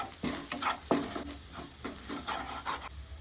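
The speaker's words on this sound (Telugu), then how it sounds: "ఇదంతా మంచిగా ఫ్రై చేసుకుందాం." Ground coriander, chili powder and fresh coriander leaves frying in a pan, heard as close, repeated scraping strokes of a spoon stirring the spices over a soft, steady background sizzle, with no talking.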